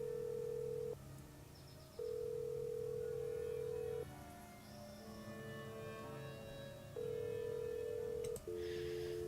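Phone dialing tones from the Nancy Drew video game sound as a series of long, clean electronic beeps separated by short gaps, played fairly quietly with a faint background hum.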